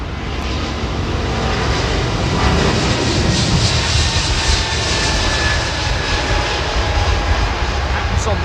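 A large airliner lands on runway 27R. A loud, broad jet roar fills the whole stretch, close and sustained, with a steady rumble holding at even strength throughout.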